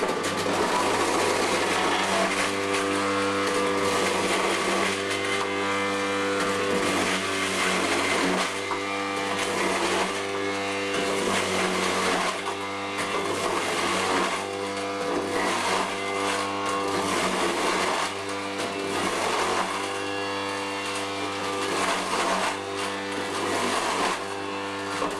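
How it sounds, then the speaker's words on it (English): Potatoes being grated for Lithuanian cepelinai in a home kitchen: a loud, continuous, rhythmic grinding and rasping with regular repeated strokes, close up and with no talking. "And the next job, it will be grating some potatoes."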